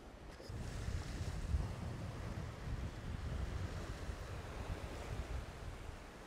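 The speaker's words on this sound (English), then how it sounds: "westerly wind's really picking up now" Strong westerly wind blows across open sea while waves and surf wash steadily, a loud continuous roar with buffeting wind noise against the microphone, with no voices heard.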